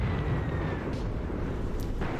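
Mortar fire on a trench in the war game Graviteam Tactics: a constant rumbling low-end roar with muffled booming impacts, dense and sustained, with no clear separate blasts.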